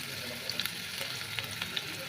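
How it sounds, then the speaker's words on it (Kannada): Mint and fenugreek leaves frying in a pan for egg curry, a steady hot sizzle with occasional soft stirring scrapes, close and continuous with no voices. "ಫ್ರೈ ಮಾಡಿ 5 ಮಿನಿಟ್ಸ್."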